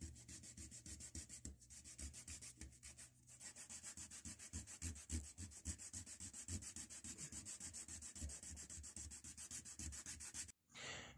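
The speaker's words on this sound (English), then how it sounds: "We're going to sand all this fucking paint off" Paint being sanded off a cracked, rusty cast vice makes a continuous rhythmic rasping of back-and-forth strokes, close and steady, with brief pauses and a short gap near the end.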